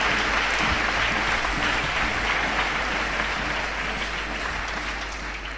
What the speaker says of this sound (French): je voudrais que vous acclamez le Seigneur pour un quart de siècle de l'UFAC